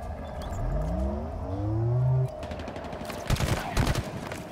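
Gunfire bursts in Halo Infinite crackle in rapid clusters near the end, after a rising engine-like whine and roar fades out, with a voice briefly speaking over the action.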